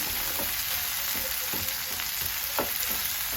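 Onions and tomatoes fry in a pan for a crab pepper masala, with a soft, steady sizzle broken by several rhythmic scraping stirs of a spoon, close and quiet, with no one talking.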